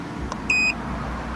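An Autel diagnostic scope gives a single clear electronic power-on beep, steady and about a quarter second long, in a quiet workshop setting during Toyota Camry speed-sensor diagnostics.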